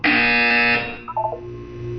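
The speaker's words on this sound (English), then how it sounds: "When you hear the buzzer, look down at the floor." A harsh electronic buzzer from the video game Portal 2 blares once for under a second, loud and flat-toned, followed by a brief tonal chime.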